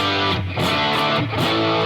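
Loud, heavily distorted electric guitar rings out sustained chords with thick overdriven harmonics, played up close in a guitar lesson, with brief dips as the chords change.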